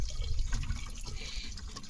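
Water runs and splashes steadily as it is filled for cooking vegetables on a wood-fire stove, a continuous close gurgling flow with faint drips.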